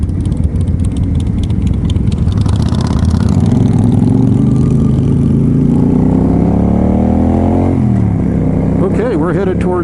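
Motorcycle riding along the Blue Ridge Parkway with a group of about 20 riders, its engine droning close and steady, rising in pitch through a long gear pull then dropping at a shift, wind rushing over it.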